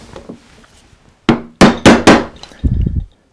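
Gouge struck with a mallet to set in the edge of a coastal relief wood carving: four sharp, close knocks in steady succession, followed by a softer cluster of taps.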